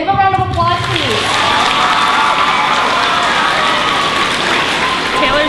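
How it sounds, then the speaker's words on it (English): Crowd applause and cheering erupt for a Navy mother who came home early to surprise her children at school for Christmas, a dense, steady roar of clapping filling the whole stretch with voices mixed in. "Give a round of applause,"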